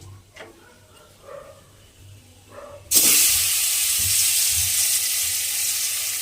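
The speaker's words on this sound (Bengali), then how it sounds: "এইবারে আমি মাছগুলোকে আস্তে আস্তে ভেজে নেব।" Quiet faint clinks and movement, then turmeric-salted fish drops into hot oil and sets off a sudden loud, sustained sizzle and hiss that continues steadily and close for the rest of the clip.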